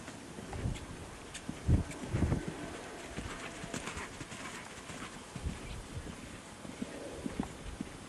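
Hooves of a young, green horse cantering during a training session, a steady uneven rhythm of thuds up close with some clip-clop and a few brief voice sounds, wind-like rushing noise underneath.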